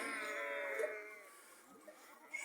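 Goat on a farm where a goat has just given birth to a kid gives one long quavering bleat nearby, then fades into quiet with a few faint soft sounds.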